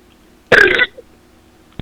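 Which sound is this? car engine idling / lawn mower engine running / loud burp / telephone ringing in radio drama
loud burp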